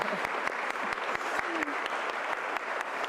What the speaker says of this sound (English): So help me applaud Carla for her taking those reins.